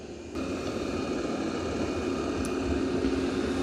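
A Roborock Saros robot vacuum running steadily as it drives under a low 3.25-inch cabinet, giving a constant whirring hum with a faint tonal whine, close and fairly quiet, with no talking.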